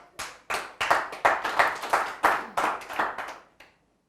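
Audience members in a hall clap in brief rhythmic bursts, about a dozen sharp swells of applause that rise and fade before stopping abruptly.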